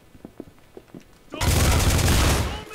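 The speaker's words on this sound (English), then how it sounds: "What the fuck is shooting at me?" Sudden loud burst of sustained gunfire in GTA IV erupts after a stretch of quieter scattered sounds, dense rapid shots continuing close and heavy to the end.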